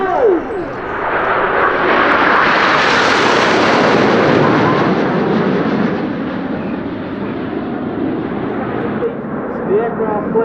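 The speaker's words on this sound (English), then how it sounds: "The aircraft flows to about 2 meters apart as they climb" RAF Red Arrows jets roar overhead during an aerobatic airshow display, a loud sweeping jet rush that swells to a peak then eases into a sustained distant roar.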